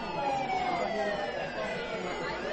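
A police car siren used as a sound effect in a Bengali audio story wails loudly and steadily, its pitch sweeping downward throughout.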